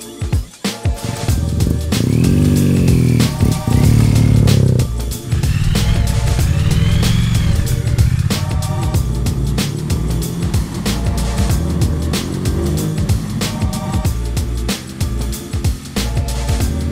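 A Triumph Thruxton R and a BMW R nineT motorcycle ride off together. Loud, continuous engine roar rises and falls through gear changes for the whole stretch, with no talking.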